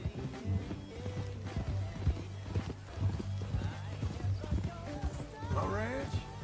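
Horse hooves clip-clopping in a steady rhythm in Red Dead Redemption 2, with a short whinny near the end, all under ongoing talk and background game sound.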